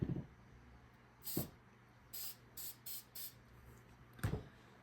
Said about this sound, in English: Can you give me the spray adhesive?